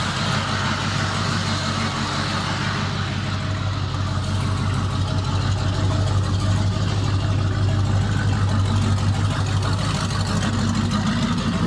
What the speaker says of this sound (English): So now I'm about to hit the road and see how she's driving